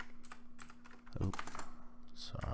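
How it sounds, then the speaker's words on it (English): Keys clatter on a computer keyboard in irregular bursts of quick taps, near but fairly quiet, with a steady low electrical hum underneath and speech faintly present. "I'm still bad at typing"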